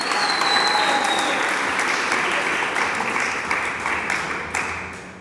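Congregation applauding in a church service, a steady, dense wash of many hands clapping together that carries on throughout and eases slightly toward the end.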